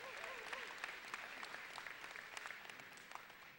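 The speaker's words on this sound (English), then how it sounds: "Let's give them a round of applause too." Audience at a college graduation ceremony claps steadily, a sustained wash of applause from a sizable crowd heard at a distance, fairly faint and even throughout.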